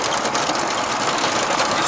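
A KAMAZ 5320 truck engine runs while driving, giving a steady, fairly loud mechanical drone with road and cab noise, continuous and unbroken for the whole short stretch without talking.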